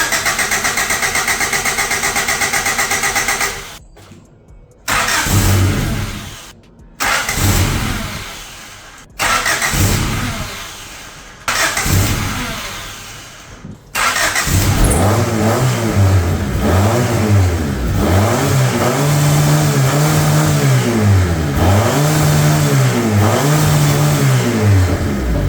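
A Honda CRX engine cranks in several short bursts with pauses between them, then catches and runs, revving up and down repeatedly with a loud, close, steady drone.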